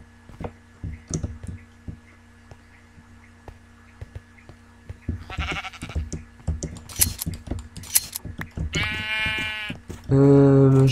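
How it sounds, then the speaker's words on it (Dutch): Several sheep bleats from a Minecraft game ring out near the end, following scattered clicks and soft rustling, with a loud sustained bleat closing the clip. "Ik heb nu wel genoeg gezien van jullie witte schapen."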